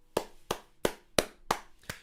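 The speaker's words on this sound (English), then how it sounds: "can we give a round of applause to Mark in the chat?" Hand claps ring out one by one, six sharp and evenly spaced, fairly close and alone with no talk, at a slow and deliberate pace rather than a crowd's applause.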